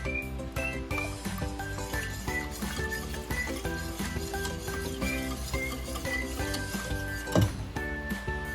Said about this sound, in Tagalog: Huwag po nating titigilan ng paghalo ang ating white sauce para maiwasan nating masunog ang ilalim na bahagi nito